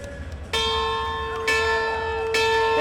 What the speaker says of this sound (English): They ring the victory bell with a 32-point win